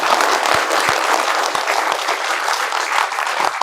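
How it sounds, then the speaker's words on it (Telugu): Village youth clapping loudly together, a dense, continuous burst of applause from a crowd, close and sustained throughout. "ఒక్కసారి మీరు ఎలా ఎనర్జీగా ఉన్నారో ఒకసారి గట్టిగా చప్పట్లు"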